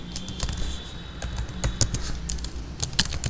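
Rapid keystrokes on a computer keyboard while PHP code is typed, a close, uneven stream of clicks with short pauses, alone without talk.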